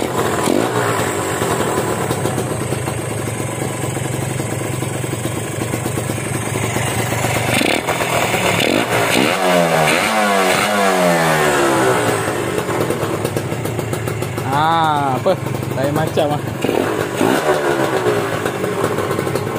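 A KRZ motorcycle engine, left standing for three years, running after a carburettor float adjustment: a loud, close, rough idle with repeated revving bursts midway and near the end, with a brief spoken exchange.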